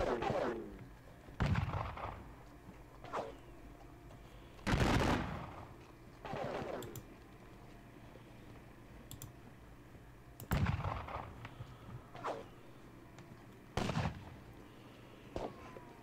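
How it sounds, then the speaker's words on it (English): Gunfire in a Napoleonic-era video game battle involving the King's German Legion: scattered sharp musket-like cracks, single and in small clusters, over a quiet background at moderate distance. "We have got lots of shooting. Lots and lots of shooting."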